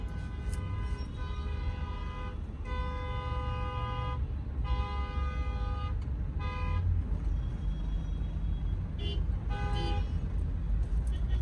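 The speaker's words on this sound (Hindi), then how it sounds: "पूरा ही जाम लगा हुआ है यहाँ पर।" Car horns honking in a traffic jam, repeated long and short toots from several vehicles over a constant roar of road traffic.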